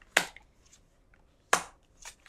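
Tarot cards shuffled during a reading: two short, crisp riffling bursts about a second apart, with a softer flick afterwards, close by in a quiet room with no talk.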